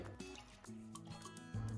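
Plain water poured into a homemade orange lemonade, a quiet liquid trickle and splash with small drips, faint and brief, no speech.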